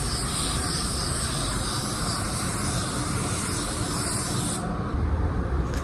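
Spray gun painting a car, blending out sealer with solvent paint: a close, continuous airy hiss of the spray gun lasting several seconds, cutting off abruptly near the end.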